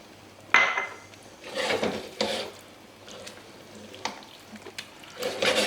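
King prawns go into a pan of fish pie mix, bringing a soft sizzle along with several sharp clanks and scrapes from stirring utensils against the pan, with no one speaking.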